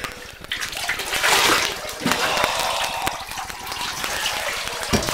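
A dog is bathed in a bathtub as running water gushes and sloshes continuously, close and fairly loud, with occasional splashes.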